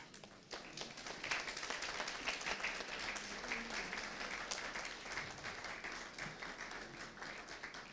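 A church congregation at a Sunday service honouring a pastor's 25 years of ministry claps in a dense, even patter that starts suddenly and keeps up steadily for several seconds at a modest distance.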